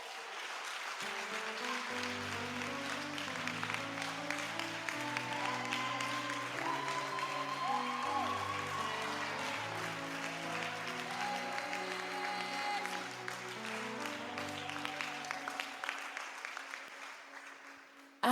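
A church congregation at a Sunday service applauding continuously, a steady wash of many hands clapping with a sustained musical accompaniment underneath before fading out.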